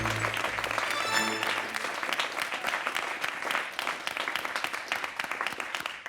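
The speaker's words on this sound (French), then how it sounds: "je vous demande de réserver un tonnerre d'applaudissements à nos invités" Studio audience at a TV debate giving guests a thunderous round of applause, dense continuous clapping throughout, with a voice briefly audible at the very start.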